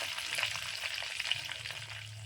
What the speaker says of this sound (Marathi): फोडणी मस्त तडतडली